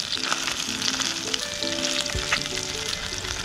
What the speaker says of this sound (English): As I said, it's a shallow fry, and I didn't want to deep fry it.